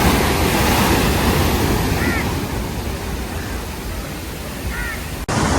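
Sea waves rolling onto the shore near Valiyathura Bridge in Trivandrum, a continuous loud surf roar mixed with wind buffeting the microphone, with a brief cut near the end.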